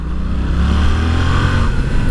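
Yamaha Tracer 700 two-cylinder engine with stock exhaust revving steadily and loudly up close, a deep continuous throbbing drone with no talking.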